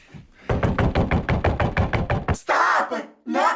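Rapid knocking on a bathroom door: about a dozen quick, loud raps in a steady run, followed by a raised voice shouting and more talk.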